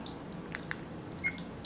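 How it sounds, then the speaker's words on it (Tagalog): A couple of short, crisp mechanical clicks of a camera shutter, close by in a quiet room, with a faint later click. "Narinig nyo, nagkaroon ng shutter sound."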